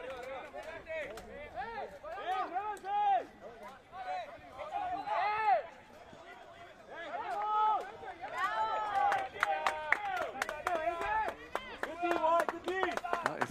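Spectators clap sporadically at an amateur soccer match between El Farolito and International San Francisco on a cold, wet day, scattered sharp claps over a sparse crowd's chatter and shouts, with voices talking throughout.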